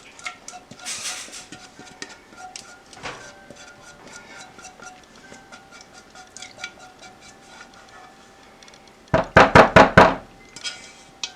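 A spatula scrapes out a pan of vanilla custard, first with scattered light taps and scrapes, then a burst of louder rhythmic scraping strokes against the pan near the end.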